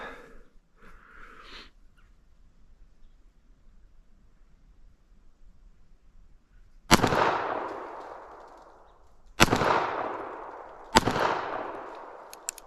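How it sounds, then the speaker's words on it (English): Pistol shots fired at a green 4x6 card target 25 yards away on a range while zeroing a red dot sight: three sharp, loud reports with ringing decay, spaced a couple seconds apart, after a brief quiet murmur. "We're going to take a couple shots at that green 4x6 card."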